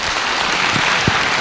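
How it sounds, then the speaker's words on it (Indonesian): A public lecture audience gives a round of applause, a thick, continuous wash of many hands clapping, with a couple of faint low thumps underneath. "Sekali lagi tepuk tangan."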